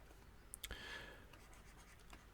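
Pencil or pen writing math on paper, a few soft scratchy strokes and light taps, quiet and close, with no voice.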